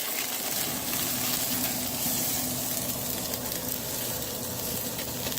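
Meat searing on a Camp Chef Woodwind or Traeger pellet grill, a steady, dense sizzle holding even and close throughout with no voices over it.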